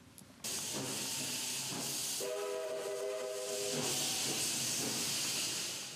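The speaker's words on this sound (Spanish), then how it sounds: "es el sonido del silbato y la salida de vapor tan característicos de una locomotora" A loud continuous hiss of escaping steam from a steam locomotive, with a steady, multi-tone steam whistle blowing for a couple of seconds in the middle.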